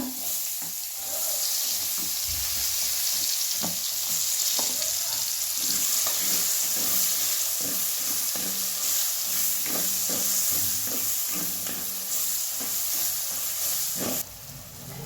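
Onion frying in a pan with ground coriander, garam masala and a pinch of asafoetida: a continuous close hiss and sizzle with occasional stirring scrapes, steady and loud for the whole stretch, no talk.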